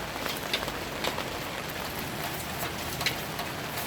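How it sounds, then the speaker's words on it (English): Rain falls steadily outdoors at night, a soft, even patter with a few sharper drops ticking on nearby surfaces, fairly quiet and continuous with no voices. "it's raining"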